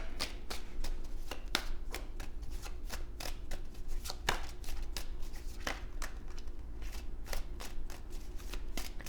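Tarot cards being shuffled make a steady series of quick, close riffling slaps and flicks that repeat rhythmically for several seconds at a fairly soft level, with no voice over them.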